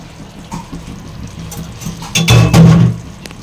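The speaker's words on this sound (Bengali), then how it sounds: "বাটিটা ধুয়ে খালি জলটা দিয়ে দিলাম" Water poured into a freshly washed bowl in a home kitchen: a soft trickle, then a louder splashing pour for about a second before it tapers off.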